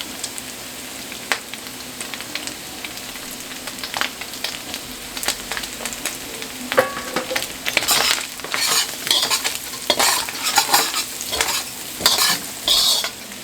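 Garlic fries in a pan for spam and shrimp fried rice, sizzling steadily while a utensil stirs and scrapes in repeated sharp strokes that grow louder and busier toward the end.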